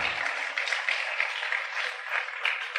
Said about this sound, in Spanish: Le damos un aplauso a la palabra de Dios y al Espíritu Santo